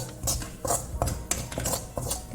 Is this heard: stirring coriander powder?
yes